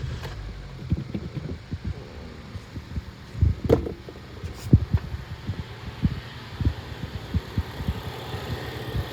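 A cold Honda Accord with a stick shift idles just after starting, giving a low, uneven rumble with irregular soft thumps and pulses at moderate distance, with no voices over it.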